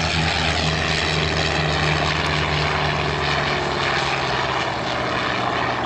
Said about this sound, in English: That's the F4U Corsair.